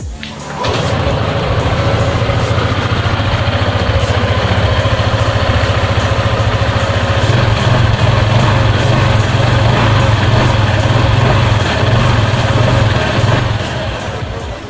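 A 2020 Honda ADV150 scooter idles steadily and close by, a continuous low engine hum with a faint rattle running for about thirteen seconds before dropping away at the end, with no talking over it.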